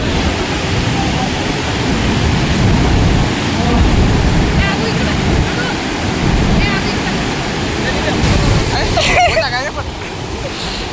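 Water rushes out of Isapur Dam in a loud, continuous roar of falling spillway flow that fills the whole scene, with crowd chatter blended underneath.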